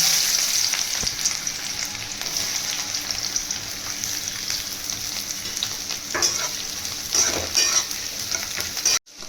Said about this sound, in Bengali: এবার আমি পেঁয়াজ কুচিগুলো দিয়ে দেবো।